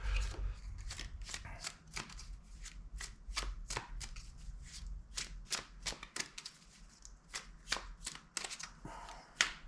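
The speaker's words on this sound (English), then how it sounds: "Let me draw some more cards on it and see what else I get here." Tarot cards shuffled and drawn during a spring abundance reading, a rapid run of crisp riffling snaps and slaps repeating steadily throughout, close and fairly quiet with no talking.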